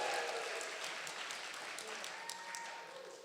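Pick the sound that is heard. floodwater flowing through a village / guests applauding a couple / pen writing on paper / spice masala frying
guests applauding a couple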